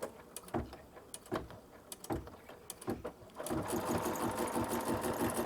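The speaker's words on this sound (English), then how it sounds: "let the machine continue stitching" A sewing machine stitches with metallic thread, first in short separate bursts about once a second, then settling into a steady continuous run of close, moderately loud stitching.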